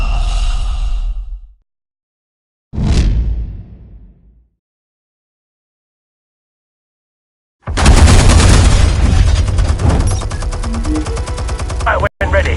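Gunfire in a Batman video game: short breathy vocal bursts come first, then a loud, dense stretch of rapid continuous shooting that runs to the end.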